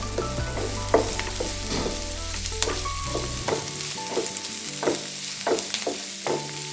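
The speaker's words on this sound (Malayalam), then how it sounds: "ഇനി തക്കാളിയും കൂടെ നമുക്ക് വഴറ്റണ്ടേ" Tomatoes sautéing in ghee in a pan for a tomato coconut chutney, a steady sizzle with repeated scraping stirs about every half second to a second, close and fairly quiet, with no talk.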